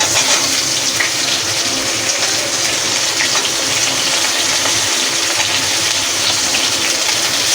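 Chopped onion hits hot tempered oil in a pan, giving a loud, dense, steady sizzle that hisses evenly throughout with no voices.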